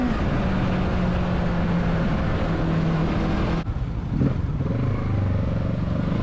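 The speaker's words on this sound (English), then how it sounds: "just going to overtake this car here, just crack open the throttle" A Kawasaki Z650 motorcycle drones loudly at steady speed while overtaking a car, with heavy wind rush over the engine. After a brief drop the throttle opens again and the engine revs climb.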